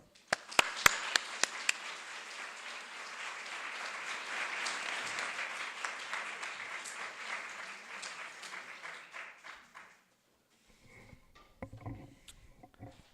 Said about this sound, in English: please join me in giving a very warm round of applause to Christian Greco